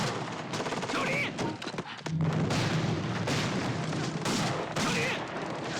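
Dense gunfire and booming explosions fill a battle scene from a war film set in the anti-Japanese war, with bursts of rapid shots and heavy blasts. A brief shouted voice comes through the barrage.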